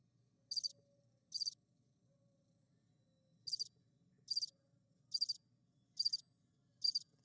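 Cricket sound effect in the Magic: The Gathering Arena card game, seven sharp high chirps in small groups spread across the clip over a quiet low hum.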